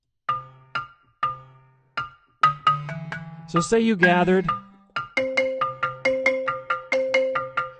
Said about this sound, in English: It's called a balafone.